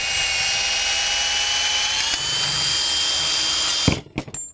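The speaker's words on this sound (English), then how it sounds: "This punch right here simply is the fastest, easiest way to punch a hole" A Maxis Max Punch gearbox hole punch drives through a steady high mechanical whine for about four seconds, ends with a sharp clunk as the hole punches through, then a few brief clatters follow, loud and close.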